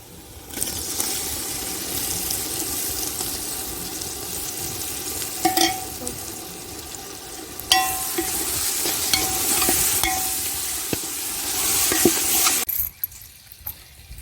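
Tomatoes frying in a pan with chilli powder for prawn biryani, with steady sizzling and intermittent scraping stirs close by, ending in a brief near-silence.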